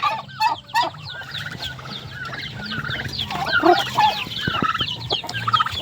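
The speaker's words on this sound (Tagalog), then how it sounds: "Ito yung mga pabo." Turkeys in a backyard poultry pen, a busy flock of nearby birds gobbling, clucking and honking in overlapping calls, loud and continuous with a low farmyard murmur beneath.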